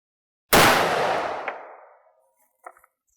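.44 Remington Magnum revolver fired once, a loud close blast with a long decaying ring-out, followed by a few faint clicks.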